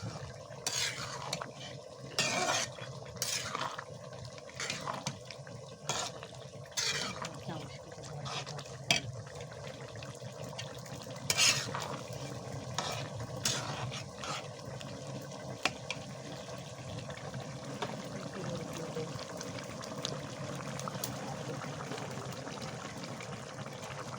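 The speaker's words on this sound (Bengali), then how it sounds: "নাড়াচাড়া করে নাড়াচাড়া করে দেবো" Lentil fritter and brinjal curry being stirred and fried in a pan, with repeated scraping and clinking strokes of a spoon against the metal over a low, steady sizzle, close by, while a person talks.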